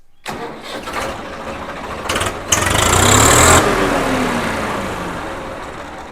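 A Swaraj 855 tractor engine cranks, catches after a few tries, roars loudly, then settles into a steady rumbling idle.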